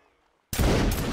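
A reenactment battle line fires a musket volley: after near silence, one sudden loud crack of many muskets together bursts out and rolls on as a dense, sustained roar without pause.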